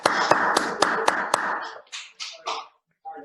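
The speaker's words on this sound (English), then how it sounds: "I think we owe him a round of applause for that wonderful effort" Brief applause at a Toastmasters club meeting: a burst of sharp, rhythmic clapping from a small group, loud and close, that thins into a few scattered claps and fades out within about three seconds.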